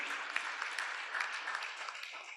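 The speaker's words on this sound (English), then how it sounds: "A big round of applause for Shiva Rea." Audience applause after a speaker is introduced at a yoga festival's wisdom talk, a steady wash of many hands clapping at a moderate distance, continuous and fairly even for a couple of seconds, with no voices over it.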